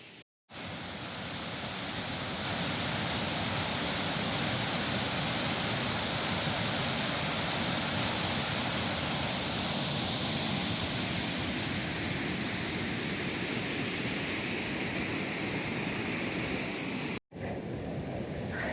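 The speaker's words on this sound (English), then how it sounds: "I'm just gonna hang out with the waterfall for a little bit" A waterfall roars steadily and close by, a dense, unbroken rush of falling water that fills the whole stretch without pause.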